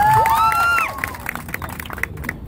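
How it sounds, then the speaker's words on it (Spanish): An outdoor street-comedy crowd in Lima answers with claps and cheers, a dense noisy mix of clapping, shouts and babble that stays loud at first and then breaks into scattered claps and calls. "Ya, aplauso para él."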